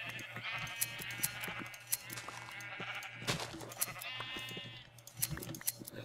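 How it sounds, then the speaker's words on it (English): Sheep in the Minecraft video game bleat repeatedly in a wavering chorus over a steady low hum and scattered clicks, several calls overlapping close by. "I just had a couple of sheep to start off with, just started breeding them, dyeing them."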